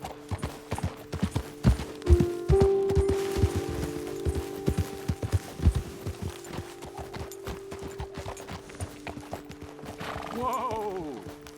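Horse hooves clip-clop steadily in Red Dead Redemption 2, a string of sharp, close hoof strikes across the ground, with a horse whinnying near the end.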